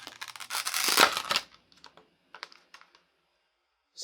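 Plastic clamshell packaging of a Crucial MX500 SATA SSD is torn open, with a loud crackling rip in the first second and a half, then a few scattered faint clicks and crinkles, close by.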